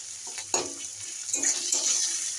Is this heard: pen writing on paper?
no